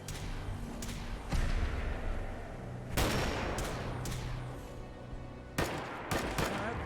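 Rapid gunfire from a fast-firing gun in the video game Fallout 4, played with mods: several loud bursts of shots with sharp onsets, separated by short pauses, over a background rumble of game sound.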